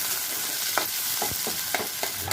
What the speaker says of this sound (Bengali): পেঁয়াজটাকে এবার একটু লাল লাল করে ভেজে দেব